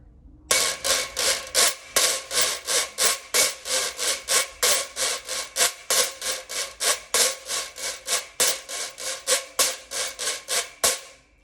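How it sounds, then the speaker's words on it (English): A reco-reco scraper rasps a samba pattern in quick, steady accented strokes, loud and close, with no voices. "I'm just lifting the rod, lifting the rod off the Reco-Reco just for that last subdivision"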